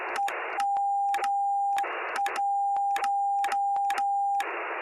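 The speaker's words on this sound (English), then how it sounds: "And there is also Morse code." Morse code sidetone from a ham radio mod in Minecraft: a steady electronic tone keyed in short dots and longer dashes, broken by bursts of static-like noise at the start, middle and end, loud and alone.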